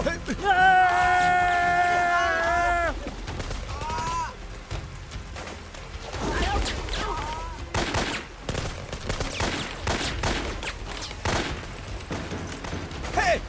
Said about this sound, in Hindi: गोली चलाना बंद करो।